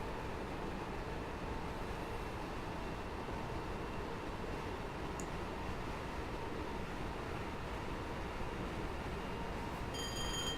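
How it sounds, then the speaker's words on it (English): A Class 313 electric train in the Train Simulator game runs at speed down a gradient, a steady rumbling rail drone holding evenly throughout, fairly faint, with a brief chiming tone near the end. "The train is picking up speed quite quickly here as we are on a downwards gradient."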